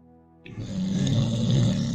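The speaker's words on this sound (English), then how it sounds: "Somebody's snoring." A person snoring during an online gaming voice chat: one rough, sustained snore cuts in abruptly over a low hum and stays loud to the end, with no talking.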